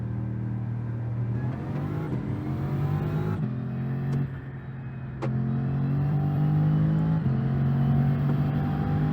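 Race car engine in a racing video game revving hard and continuously, pitch climbing through gear changes with brief dips, loud and close with no talk.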